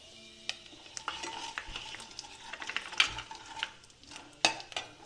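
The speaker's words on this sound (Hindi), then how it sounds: "घी गरम हो चुका है, अब इसमें डालेंगे जीरा, अब हम इसमें डालेंगे मेथी" Cumin seeds and fenugreek go into hot ghee in a pan while making shahi paneer, giving a soft steady sizzle with scattered clinks of a spoon against the pan, close and moderately quiet, with no voices.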